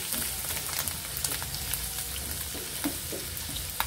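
Garlic and onion sizzle and spatter in hot oil with a steady crackle and scattered sharp pops, close and fairly loud throughout.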